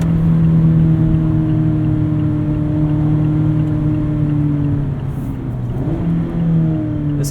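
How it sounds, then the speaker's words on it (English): A Mazda MX-5 Miata engine hums steadily from inside the car, a loud, droney exhaust note holding a low pitch for several seconds before dipping briefly and picking up again. "This engine definitely sounds different."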